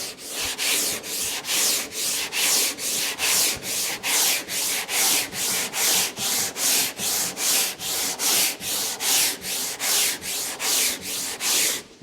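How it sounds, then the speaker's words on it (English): A sanding block works body filler on a car panel in steady back-and-forth strokes, about two per second, with a close, even, raspy scraping that continues throughout. "We can sand it up and down the panel or along the panel."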